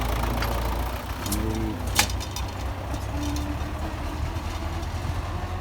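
An MTZ-80 tractor with front counterweight running at a steady, even drone throughout, with a faint bird call and a short click partway through, no one speaking.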